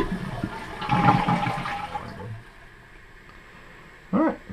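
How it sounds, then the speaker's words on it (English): A household toilet flushes right after its fill valve was replaced, a loud rushing swirl of water for about two seconds that fades into a quiet trickle and refill, with a short clunk near the end. "Okay, let's go and flush it."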